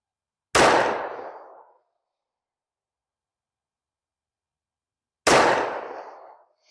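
Two loud, sharp shots from a S&W M&P 2.0 Metal .40 pistol at a range with steel targets, several seconds apart, each with a ringing tail that fades over about a second.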